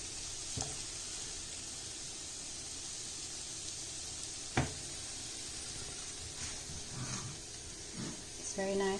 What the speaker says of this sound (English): the bubbles, sizzling bubbles of butter